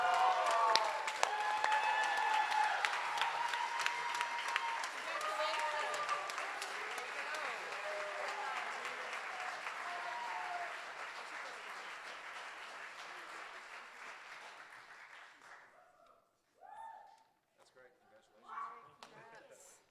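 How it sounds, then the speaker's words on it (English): Crowd applause with some cheering follows a pitch competition, loud at first and gradually thinning out, with voices mixed in before it fades and a few scattered sounds and talk remain near the end. "let's give another round of applause to everyone that was up here"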